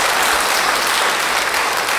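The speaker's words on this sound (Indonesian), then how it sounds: "Beri tepuk tangan bagi dia" Congregation at a church service claps in dense, loud applause, an even wash of many hands throughout with no voices heard.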